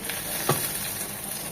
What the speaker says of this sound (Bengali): এখন মশলাগুলো খুব ভালোভাবে কষিয়ে নেব